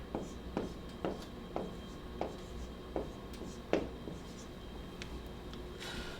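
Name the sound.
writing notes on a board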